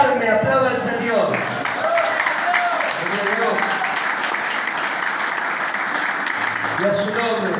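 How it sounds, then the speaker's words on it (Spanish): Church congregation applauding during a healing sermon, steady mid-level clapping running throughout, with a preacher's voice heard over it at the start and near the end. "Aplauda al Señor."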